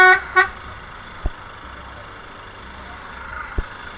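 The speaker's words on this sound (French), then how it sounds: "utilisation du klaxon en agglomération, c'est uniquement en cas de danger" A vehicle horn honks at a cyclist in town traffic: two short, close toots right at the start, then steady road noise with a couple of faint knocks.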